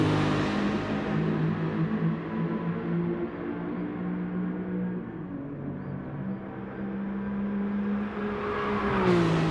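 A 2002 Nissan GT-R R34 engine in GT Sport on the Nürburgring Nordschleife rises and falls in pitch through the gears, loud and close, with a smooth continuous drone and a sharper climb at the end.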